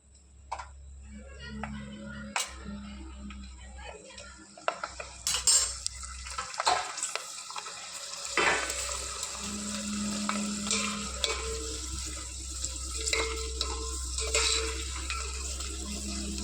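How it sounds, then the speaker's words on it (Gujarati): Homemade potato wafers frying in hot oil, a steady sizzle broken by sharp clinks and scrapes of a metal spoon against the pan, close up with no talking. "હાલો હવે આપણે છે ને બટેટાની વેફર તળીએ"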